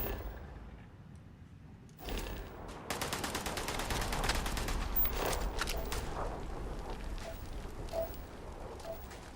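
Gunfire in the Starfield video game: a quiet start gives way after about two seconds to sustained rapid automatic fire, continuous and fairly loud, with scattered sharper shots over the rattle.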